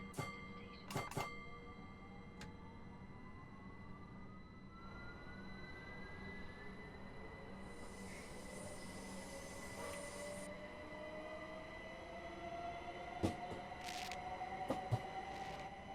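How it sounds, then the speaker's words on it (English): Electric third-rail train in Train Sim World 6 on the Medway Valley line, rolling steadily with a low rumble, rising electric whine and intermittent sharp crackles and pops from the third rail, moderately quiet. "The crackles on the third rail there. That sounds nice."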